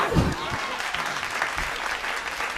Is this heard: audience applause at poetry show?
yes